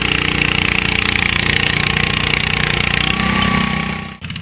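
A pulling tractor engine at the Ilderton, Ontario tractor pull, a loud continuous pulsing roar with a fast, regular engine throb that holds steady, then cuts out abruptly near the end before a lower rumble resumes.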